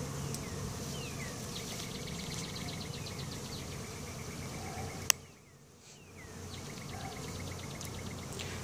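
Agitated honey bees swarm a crowded beehive while a honey super is added, a dense close buzzing drone with individual bees whizzing past, a sharp click midway and a brief dip before the hum swells again.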